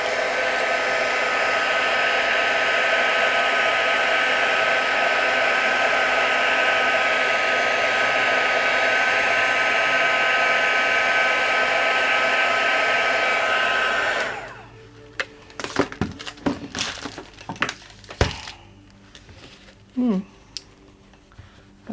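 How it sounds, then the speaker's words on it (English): A heat gun blows hot air over collage paper in a loud, steady close whoosh lasting about fourteen seconds, then cuts off, leaving scattered handling clicks and rustles. "I'll just get my heat gun,"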